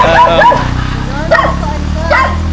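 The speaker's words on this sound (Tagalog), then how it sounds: "Uy, aso pala." A dog barking outdoors near a lodge: three short yapping bursts spaced about a second apart, fairly close, over a low engine hum.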